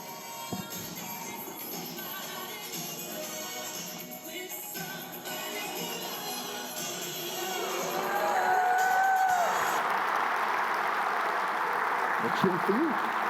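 Audience at a TEDxDetroit 2022 talk cheering and applauding, a sustained wash of crowd noise rising partway through and continuing to the end, with voices and a brief tonal sweep mixed in.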